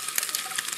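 Salami and egg scramble sizzles in Italian hog fat at an outdoor camp kitchen, a steady soft frying hiss with faint stirring ticks.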